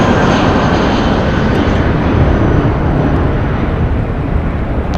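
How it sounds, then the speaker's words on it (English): A four-year-old Spirit Airlines Airbus A320 departs LAX for Atlanta, a loud, close, continuous jet engine roar with broad rumbling thrust that holds steady throughout, with no voices. "Departing here is Spirit Airlines Flight 631 going to Atlanta, Georgia."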